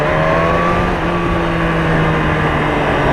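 A BMW S1000RR motorcycle engine while riding, a loud, steady close drone with a constant tonal hum and rushing wind, holding even throughout with no voices.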